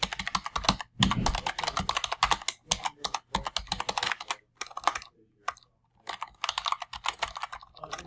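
Slow, uneven typing on a computer keyboard while entering new-employee details into HR staffing software, with clusters of close, crisp key clicks broken by short pauses.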